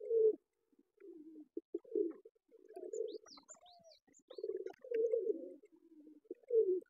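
Domestic pigeons coo softly and repeatedly while feeding. Low throaty coos come in short bursts with brief pauses, and faint chirps show over them. There is no talking.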